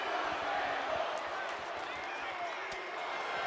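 A steady roar of a virtual arena crowd chanting for tables during a WWE 2K26 Saturday Night's Main Event in Pittsburgh, dense and continuous throughout.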